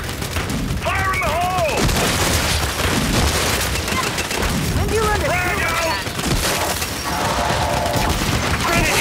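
Frag grenade blasts and heavy gunfire from Gears 5 Horde mode on the Turbine map, a dense continuous barrage of booms and shots with whistling effects, with players talking over it.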